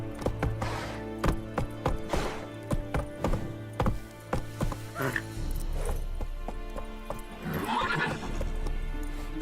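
Roach, the horse in The Witcher 3, gallops with rhythmic hoofbeats and lets out loud neighs, set against music and game ambience.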